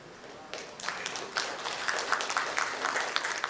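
Audience applause at a leadership summit panel session swells into a steady, dense round of clapping after a brief quieter start and carries on evenly to the end.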